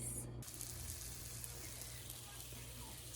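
Tuna melt patties made with breadcrumbs, egg, mayo, spices and cheese frying on a stove in a tiny house, giving a faint, steady, continuous sizzle with a low hum underneath.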